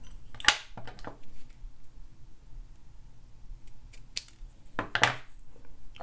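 Scissors snipping quilling paper strips at close range, a few sharp isolated snips separated by quiet pauses.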